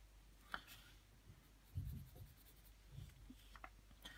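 A Pilot Super Grip 0.7 mechanical pencil draws on paper, with faint, quiet scratchy strokes and light rubbing in short irregular bursts.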